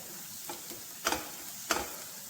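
Onions fry softly in a pan, a faint steady sizzle broken by a few brief stirring scrapes and taps, close by and with no talk.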